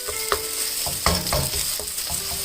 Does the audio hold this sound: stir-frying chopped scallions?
yes